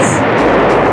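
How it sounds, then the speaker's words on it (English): A huge explosion at a crystal shop across the street in a cartoon, a loud, dense blast of roaring noise that fills the whole short moment with no talking. "A huge explosion came down from the rare crystal drop across the street."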